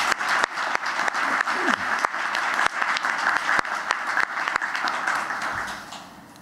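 Audience at an HR conference applauds steadily with dense clapping, a few sharper claps standing out, before the applause fades near the end.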